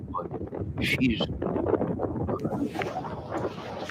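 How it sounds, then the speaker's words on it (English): Strong wind buffets the microphone at the front lines of the Eaton fire, a steady broadband roar that persists throughout, with a reporter's voice speaking briefly over it. "you can hear the winds right where you are."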